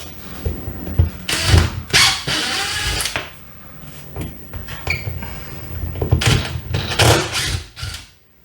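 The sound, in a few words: removing drywall screws with a power drill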